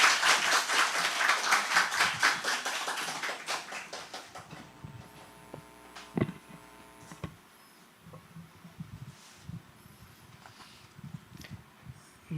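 A church congregation at a Sunday worship service applauds to welcome a speaker to the front, with dense clapping that fades out over about four seconds, followed by scattered faint knocks and shuffling in a quiet hall.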